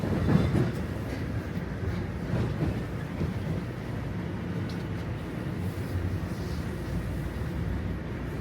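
A train arriving at Union Station in Toronto rumbles steadily with a low, continuous roll and faint rail clatter, holding an even level throughout without any break.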